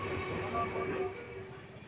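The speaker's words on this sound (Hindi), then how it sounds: "यहाँ एक नंबर प्लेटफॉर्म पे शांतिपुर लोकल जो है आ चुकी है।" The Shantipur local train stands at platform one of Madanpur railway station, a low steady rumble and hum of the idling electric train with a faint tonal whine, while someone talks over it.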